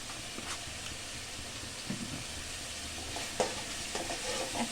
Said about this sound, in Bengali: এখন মশলাটা আমি খুব ভালো করে কষাবো